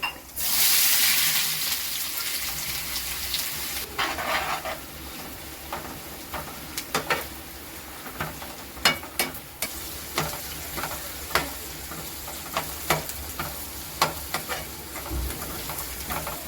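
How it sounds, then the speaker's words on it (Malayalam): Shallots and fenugreek seeds fry in coconut oil in a pan while a Kerala fish curry is made, starting with a loud burst of sizzling that settles into a steady crackle, with repeated close stirring scrapes throughout. "ചെറിയുള്ളി നല്ലപോലെ മൂക്കണം"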